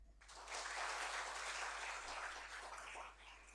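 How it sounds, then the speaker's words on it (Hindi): An audience at a student exam guidelines session bursting into applause, a full, even wash of clapping that starts abruptly, holds steady for about three seconds, then thins out over a low hum. "आज तालियां बजा दें"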